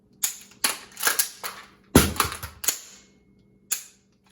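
Rifle shots ring out during a speed reload drill, a rapid volley of about seven loud, sharp cracks with a short pause for the reload before a final shot.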